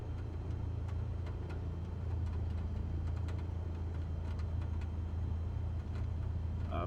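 Steady, loud aircraft engine drone from a plane in Microsoft Flight Simulator, a continuous low rumble with faint ticking on top, holding even throughout with no voices.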